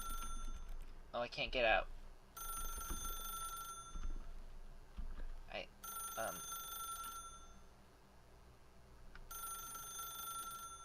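A telephone rings in the video game The Stanley Parable, its repeated electronic bursts sounding in evenly spaced rings across the clip, with someone speaking briefly between them.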